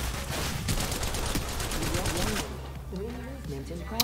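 Rapid automatic gunfire in the video game Apex Legends Mobile: fast repeated shots for about two seconds, then quieter game sounds, with someone talking over it.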